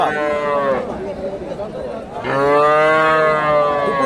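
Two long, drawn-out moos from cows at a cattle market in Bogura, Bangladesh, the second louder and closer, with faint crowd chatter in the background.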